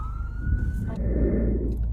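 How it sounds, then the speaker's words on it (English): Emergency vehicle sirens sound on a street in St. Louis: a sustained wailing tone breaks off partway through into a deep, steady rumble of traffic, fairly loud and close. "So there's sirens."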